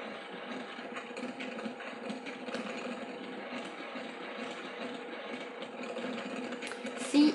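A sewing machine winds a bobbin with foam thread at steady low tension, giving a continuous mechanical whir and whirring hum with a faint ratcheting texture. It runs evenly and close for the whole stretch, ending in a brief louder clunk.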